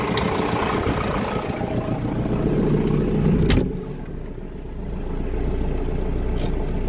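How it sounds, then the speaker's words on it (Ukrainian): A tractor pulling a KPS 4.2 cultivator through a sunflower field at about 11–12 km/h, its engine droning steadily and loud throughout, with a brief sharp knock near the middle and a slight dip in level afterwards. "Ну що, сядемо в трактор, прокатаю вас,"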